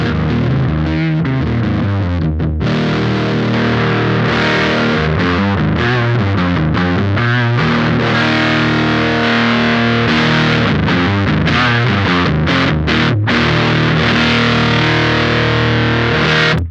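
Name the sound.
electric guitar through Champion Leccy pedal, low setting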